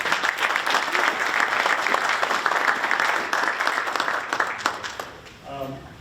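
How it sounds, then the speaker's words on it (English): A crowd at a New York State brewers' event claps for a speaker introduced before a talk on trace minerals in brewing; strong, steady applause fades out near the end as a voice begins speaking. "So please a round of applause for our speaker."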